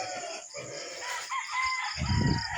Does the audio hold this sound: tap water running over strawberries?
no